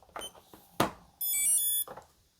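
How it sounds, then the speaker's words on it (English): Phone charging timer alarm going off with a short steady electronic beep tone near a OnePlus 12 phone, clear and close, preceded and followed by brief clicks and faint rustling. "That was the official timer right there."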